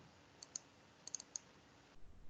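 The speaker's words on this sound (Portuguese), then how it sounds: "Dois cliques de novo, ó." Faint, crisp mouse clicks at a computer running CAD drafting software: a quick double click, then a tight cluster of three clicks and one more single click, with no talk over them.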